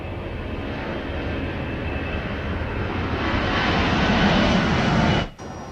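Aircraft engines roar steadily and grow louder over several seconds as the plane powers down the runway for takeoff, then cut off abruptly near the end.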